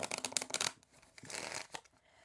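Cards being shuffled give quick riffling flutters in a couple of bursts, fairly faint and close, with no voice over them.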